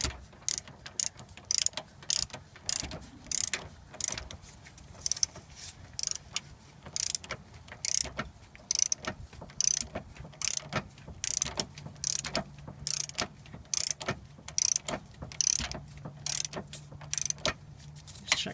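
A hand ratchet tightening a nut on the idler arm bracket of an older GM full-size Chevy or GMC truck, a long series of quick, sharp clicking bursts, close and clear with short pauses between strokes.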